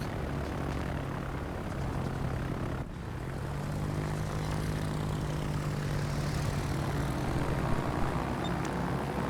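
Propeller aircraft engines drone overhead in a World of Warships naval battle, a steady loud hum that dips briefly then swells again and holds.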